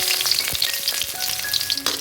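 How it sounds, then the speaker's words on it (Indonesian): Shallots and garlic fry in hot oil with a steady crackling sizzle, punctuated by a few light stirring knocks, close and moderately loud throughout. "Lalu tumis bawang merah dan bawang putih sampai mengeluarkan aroma wangi."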